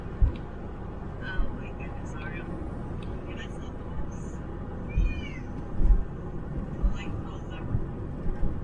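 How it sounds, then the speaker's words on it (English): Faint cat meows, several short calls scattered over a low road rumble inside a moving vehicle, with someone speaking. "That was not Oreo meowing"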